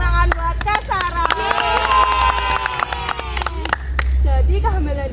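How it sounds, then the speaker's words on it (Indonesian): A school audience at an Indonesian high school talk bursts into applause for Kak Sarah, with dense clapping, cheering and crowd shouts swelling loudly near the listener for several seconds before tapering, while a voice speaks through the noise. "beri tepuk tangan buat Kak Sarah"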